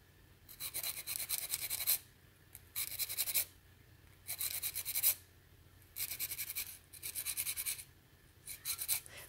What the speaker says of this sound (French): Je vais prendre une lime et je vais venir limer bien droit sous mon ongle.